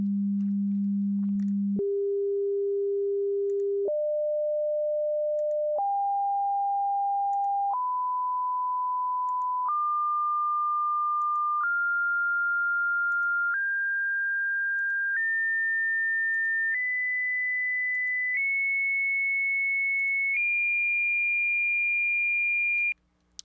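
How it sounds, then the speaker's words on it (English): Pure sine wave tones play one at a time for a harmonics demonstration, eleven steady beeps each about two seconds long, stepping upward in pitch from low to high, clean and alone with a faint hum beneath. "now I'll play each sine wave individually"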